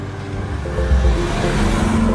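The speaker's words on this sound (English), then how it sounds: "I can hear that this car has an amazing exhaust sound" A 2017 Maserati Levante SUV's exhaust rumbles loudly up close, swelling into a steady, throaty rev that holds for about two seconds.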